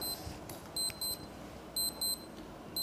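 A G-Shock digital sports watch alarm beeps in quick pairs of high, thin tones, repeating over a steady background hiss.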